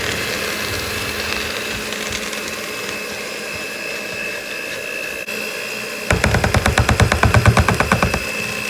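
An electric mixer whirs steadily through chocolate chip cookie dough, close and continuous, then turns into a choppier, pulsing churn near the end.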